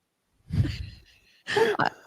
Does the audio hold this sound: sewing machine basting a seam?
no